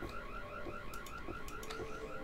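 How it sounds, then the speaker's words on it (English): An alarm sounds inside the ghost-house game Boo Men, a rapid repeating two-tone warble that pulses steadily, fairly faint, with a few brief clicks and thuds from the game layered over it. "I can just hear an alarm going off now"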